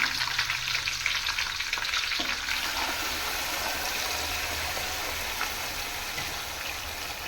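Steady, close sizzling and crackling of spices tempering in hot oil on a low flame for Catla fish curry, continuous throughout with no talking.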